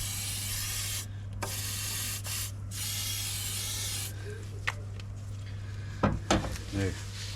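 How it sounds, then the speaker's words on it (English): Rust blocker sprayed into the bottom of a front coil spring on a Honda Civic gives off a steady close hiss in short bursts, broken by a few clinks and a brief voice near the end. "Now I'm going to use some of this rust blocker just in the bottom of the spring,"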